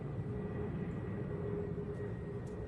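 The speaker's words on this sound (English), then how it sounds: "Not the plane flying over" A steady, low rumbling drone of an airplane flying overhead, continuous and fairly loud throughout, with no talking.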